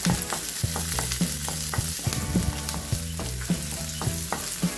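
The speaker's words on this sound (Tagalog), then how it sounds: "So sinuti ko na yung sibuyas" Onion and garlic sizzle in a pan for a shrimp and cauliflower stir-fry, with a steady frying crackle and rhythmic scraping taps of stirring repeating about every second, close and fairly loud with no talk.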